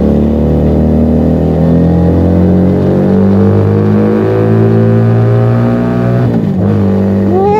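A Keeway SCR 250V motorcycle with a Mavionic aftermarket exhaust roars loudly and steadily at high RPM with strong low harmonics, then briefly drops and climbs back up in a quick rev near the end.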